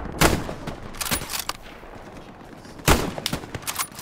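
Gunfire in Hell Let Loose on the El Alamein map with the British faction comes as several sharp, loud bursts of rapid shots, near and punchy, separated by short gaps.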